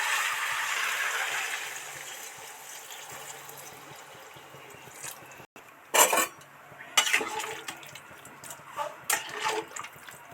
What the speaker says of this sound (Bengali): এবার গরম জলটা এর মধ্যে দিয়ে দেব